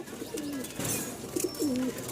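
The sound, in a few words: pigeons cooing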